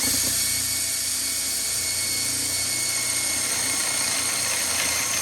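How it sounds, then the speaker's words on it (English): A sharp Forstner bit drilling into veneered wood gives a loud, steady high-pitched whine and whirr close by, constant throughout with no pauses or talking. "It's a sharp Forstner bit"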